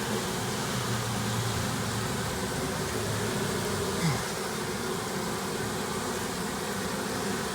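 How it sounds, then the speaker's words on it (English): Honey bees buzz as a steady, dense drone, being removed from a cellphone tower on a rainy day, continuous and fairly close with no talk. "These are strong bees."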